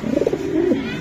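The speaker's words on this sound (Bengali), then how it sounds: "যার ঘরে যাবে তার ঘর কিন্তু সারাক্ষণ ডাক শোনা লাগবে এইসব কবুতরের" Young racing pigeons coo softly and close by in a short, throaty rolling burst.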